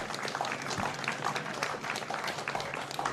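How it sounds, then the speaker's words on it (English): Crowd applause rolls steadily for a few seconds, a dense patter of many hands clapping at a moderate distance, from spectators at a women's all-stars football match. "applause there from the crowd on the broadcast side of the ground"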